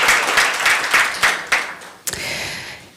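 An audience at an election community forum applauds a professor, with several rhythmic swells of clapping that fade out, followed by a brief sharp knock and a softer hiss.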